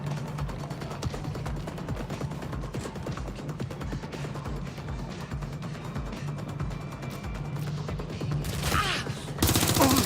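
Dense, continuous automatic gunfire in Watch Dogs: Legion, a steady rattling barrage of shots over a low hum, growing louder and harsher near the end.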